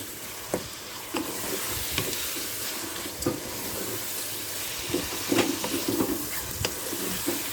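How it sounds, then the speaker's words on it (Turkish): Bulgur and rice tipped into a pan and stirred, sharp intermittent scrapes and clicks of a spoon over a steady background sizzle, close by. "bir çay bardağı kadar bulgur e, bir buçuk çay bardağı kadar da pirinç e, ilave ediyoruz."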